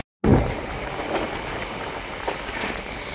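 A passenger train bound for Sealdah rolls along on a foggy morning, a steady rumbling run with faint rail clatter heard from inside a compartment after a brief silence at the start.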